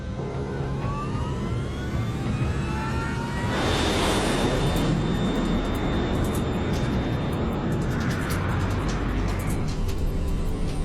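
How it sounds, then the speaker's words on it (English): Jet airliner of LAM Mozambique Airlines rolling for takeoff, a steady engine roar with a rising whine that swells louder and rougher midway and stays strong to the end. "LAM 470, you are cleared for takeoff."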